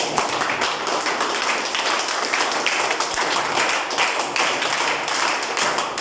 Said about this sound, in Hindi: आप लोग खड़े होकर के इन गर्ल्स के लिए एक बार जोरदार ताली बजाइए।